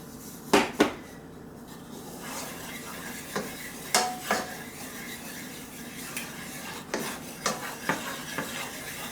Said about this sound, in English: So I'm going to start adding some milk, and I stir it in.